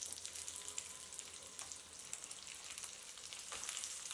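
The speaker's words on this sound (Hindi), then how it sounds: "अब इसको हम पलट कर दूसरी तरफ से भी 1 मिनट के लिए पका लेते हैं।" A capsicum cutlet fries in a pan, giving a steady, faint sizzle with soft crackles that stays continuous and close throughout.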